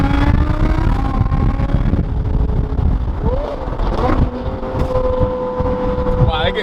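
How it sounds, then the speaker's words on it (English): A straight-piped Ferrari 599 with a titanium exhaust roars from a few cars back in traffic, its loud droning exhaust note mixed with road rumble and wind noise while a voice speaks over it. "you can still hear the Ferrari from 3-4 cars back like you're inside the vehicle"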